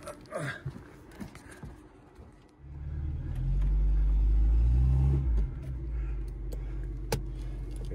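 A pickup truck carrying a camper drives off-road: quiet creaks and rustles, then the engine swells into a loud, low rumble for a few seconds before easing back to a steady idle.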